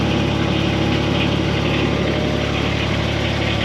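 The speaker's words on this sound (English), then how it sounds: "doing good. It's idling." An engine that sat unused for over two years, still on old fuel, idles steadily with a loud, even, vibrating drone that holds constant close by.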